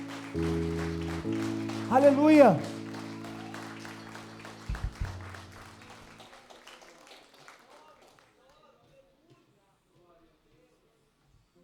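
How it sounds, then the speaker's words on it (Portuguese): Congregational clapping at a Christmas church service, scattered hand claps under a preacher's loud shouted praise and sustained keyboard chords, fading away after about six seconds into near silence. "Dê uma salva de palmas"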